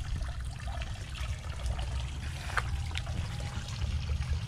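Water flowing steadily from a household tap or outlet at a newly built house, a continuous low rushing wash with faint trickling on top, fairly close and alone without talk.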